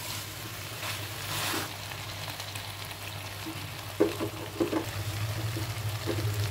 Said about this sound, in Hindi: ये देखिए दो मिनट तक हमने इस कटहल के साथ फ्राई किया